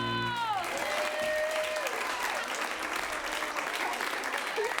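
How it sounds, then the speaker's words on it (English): Broad, steady applause from a live audience at a J Names show, filling the whole stretch at an even level just after a sung musical number ends with a held note. "Give her a round of applause."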